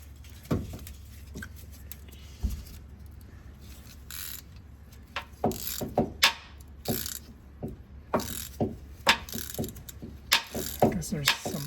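Ratchet wrench turning a T50 socket clockwise during rear brake work on a 2023 Toyota Tundra, giving irregular bursts of sharp metallic clicks with pauses, louder and denser toward the end, over a low steady hum.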